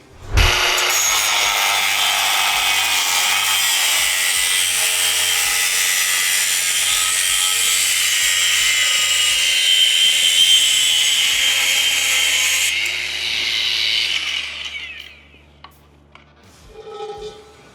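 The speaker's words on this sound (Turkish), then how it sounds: "Profil keselim. Şurada bir tane profil gördüm. 4'e 4 mesela." A power tool from a six-piece tool set cuts through a 4x4 steel box profile about 2 mm thick, making a loud, sustained high-pitched grinding whine that runs for about twelve seconds before it winds down and stops.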